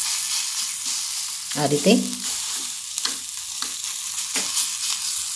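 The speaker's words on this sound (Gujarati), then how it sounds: "ઉપર આપણે થોડું તેલ લગાવી દઈશું અને આને આપણે સારી રીતે શેકાવા દઈશું" Soybean pudla batter sizzles steadily on a hot nonstick pan, a close, continuous hiss with a few soft scraping touches and a brief spoken phrase partway through.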